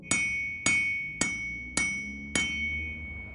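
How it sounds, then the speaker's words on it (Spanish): Five evenly spaced hammer blows strike iron, each a sharp, loud clang with a bright metallic ring that decays before the next hit. "Golpes y más golpes."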